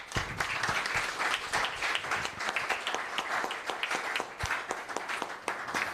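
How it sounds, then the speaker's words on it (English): Audience at a startup competition grand finale applauding the finalists, dense sustained clapping from a sizable crowd, steady and moderately loud throughout. "So I think all of them should have a big round of applause."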